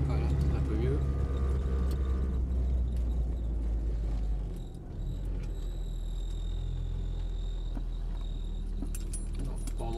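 A Renault Twingo with newly replaced rear brakes drives at night and slows down, with a low engine rumble, a dip as it brakes, and keys jangling inside the car.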